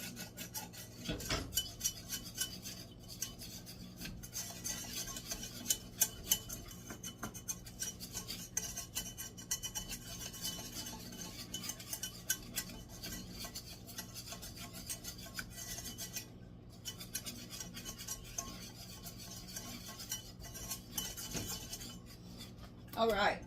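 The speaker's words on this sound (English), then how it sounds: "Whisk this together." A whisk scrapes and rasps steadily against a bowl as it works a thick paste for au gratin potatoes, close and continuous throughout with small clinks of the utensil.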